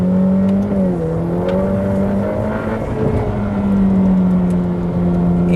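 Ducati V4R superbike engine held at a steady, lightly varying pitch as the rider feathers the throttle, a loud continuous drone with small rises and dips throughout.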